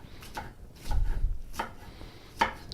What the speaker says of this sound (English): what I'm doing now is trimming up some of the onions, chopping them up